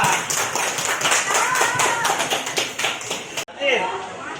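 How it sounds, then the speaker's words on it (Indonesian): Classmates clap for a pupil in a classroom with a burst of quick, uneven hand claps close by, which cuts off abruptly and is followed by talking. "tepuk tangan untuk Kilwa."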